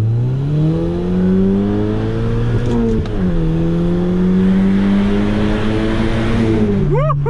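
An Audi TT transformed to RS spec, with about 250 horsepower and a modified exhaust line, idles and revs close by, the engine tone rising and falling, dipping sharply around the middle and blipping quickly at the end.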